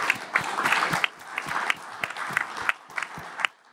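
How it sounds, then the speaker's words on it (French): A live audience at a Paris podcast event breaks into applause, dense clapping that swells and fades in waves, fairly close and filling the room, with no talking over it. "je pense qu'on peut l'applaudir."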